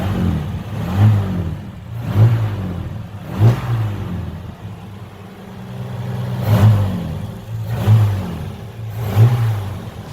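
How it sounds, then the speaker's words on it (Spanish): A 1974 Dodge Polara RT's Slant Six RG225 engine, a high-performance inline six canted at 30 degrees, revs repeatedly in a parked car, with about six strong throttle blips spaced a second or two apart over a steady idle. "El motor del RT."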